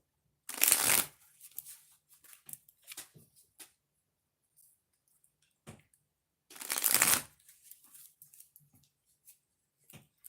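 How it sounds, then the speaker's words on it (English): A deck of oracle cards is shuffled in two loud riffling bursts, each about a second long, with softer handling clicks and taps in between. "So I'm going to shuffle the deck before we get started."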